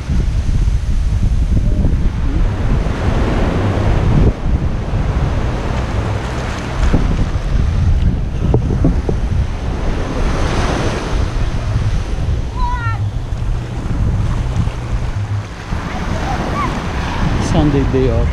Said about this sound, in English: West Bay Public Beach.